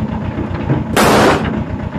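A Diwali firecracker bursts once with a sharp, loud bang and a brief crackling tail, set against steady low rumbling background noise.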